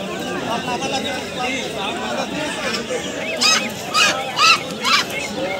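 Chinese geese at a poultry market honk in a few loud, repeated calls near the end, rising above a steady hubbub of voices and market chatter.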